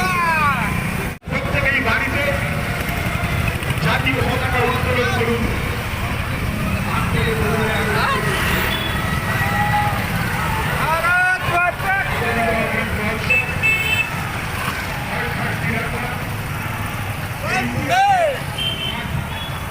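Steady engine roar from many motorcycles passing in an Independence Day bike rally in Kaliyaganj fills the scene, with a voice talking over the rumble throughout and occasional horn-like tones.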